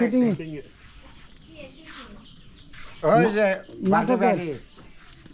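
Pigeons kept at a rural home give low, soft coos in short bursts, mixed with people talking nearby outdoors.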